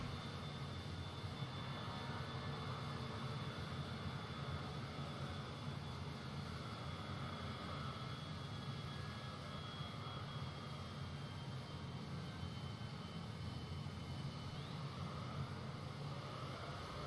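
Steady aircraft engine drone of an airliner in Microsoft Flight Simulator 2020 on a flight from Entebbe to Wilson, a continuous broadband roar with a faint high whine, unchanging and alone throughout.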